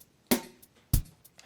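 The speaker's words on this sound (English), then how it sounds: "this allows us to play our pre-recorded and pre-loaded drum beats provided by Boss" A simple Boss RC-505 drum machine pattern: two punchy kick-and-snare hits with faint hi-hat ticks between them, clean and steady.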